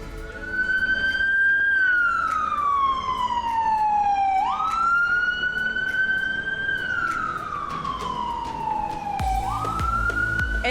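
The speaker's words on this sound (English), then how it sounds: "when I hear a siren and then just see people getting out the way" Emergency vehicle siren wailing in a street, its pitch sweeping slowly up and down in long repeated cycles, loud and steady throughout with faint traffic rumble beneath.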